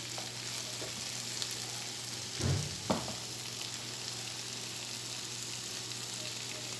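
Vegetables frying in a pan over a low flame give a constant, even sizzle, with a brief clatter of stirring near the middle.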